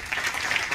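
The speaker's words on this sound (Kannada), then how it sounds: "ಒಂದು ಜೋರು ಚಪ್ಪಾಳೆ ಬೇಕು ಅವರಿಗೆ" Audience applause for a Bharatanatyam dance debut, a brief dense burst of many hands clapping at moderate distance.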